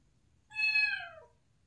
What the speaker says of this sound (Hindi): बिल्लियों को परेशान करने में लगे हुए इतनी देर से ना